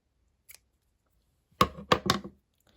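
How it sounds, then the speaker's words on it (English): Scissors snip through crochet yarn in three quick, close cuts, preceded by a faint tick, in an otherwise quiet room. "Okay, so go ahead and cut."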